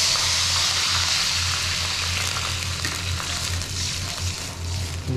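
Water poured into a hot frying pan while cooking, a loud, steady broadband sizzle and hiss that fills the whole stretch, with a low hum underneath.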